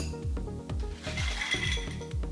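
Ice cubes drop into a glass of whisky, a string of hard clinks and knocks, close and moderately loud, with no voices.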